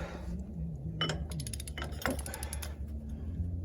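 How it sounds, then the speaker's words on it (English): A torque wrench set to 50 is turned on a truck hub nut, giving a run of metallic ratcheting clicks and clinks up close, with short bursts and pauses between them. "So grab the smaller torque wrench and set it to 50."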